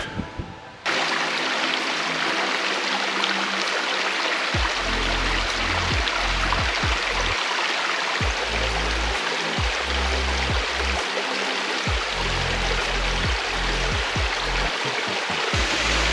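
Steady, loud rush of a waterfall at Cascade Falls, heard up close at the end of a nine-mile woodland backcountry hike, broadband roar filling the whole clip with low thumping gusts underneath.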